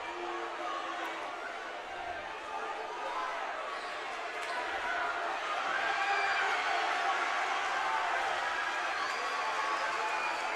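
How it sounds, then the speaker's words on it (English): Home crowd at a high school men's basketball game roaring and cheering after a three-pointer, a loud sustained wash of voices from many people filling the gym, swelling a little toward the end. "the Husky crowd goes wild as those 3 points were just added to the board"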